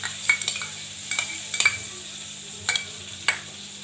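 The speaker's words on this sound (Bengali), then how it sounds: "ফুলকপিটা ভেজে নিচ্ছি" Cauliflower frying in butter and ghee in a pan, a low steady sizzle punctuated by several sharp clinks and scrapes of a utensil against the pan, close and fairly quiet.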